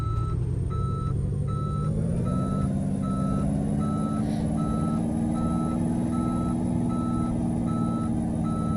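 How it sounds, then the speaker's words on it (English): Steady, evenly spaced reversing beeps from a truck repeat through the whole stretch over a loud, continuous engine rumble, with a faint air-brake hiss partway through. "We've got a reverse beeper."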